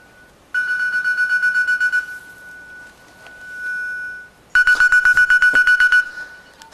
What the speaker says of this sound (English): who's got the phone on?